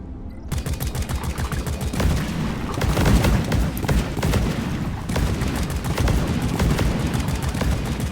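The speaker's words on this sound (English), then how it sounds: "It's a lot of explosions happening over there." Rapid bursts of gunfire and explosions fill a firefight in the co-op mining game Deep Rock Galactic, dense and continuous at close range, starting abruptly after a brief quiet moment and staying loud throughout.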